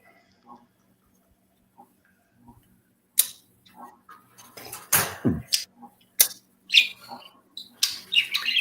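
A small pet bird squawks and chirps in a room, quiet at first and then loud, sharp bursts coming close together and getting louder toward the end.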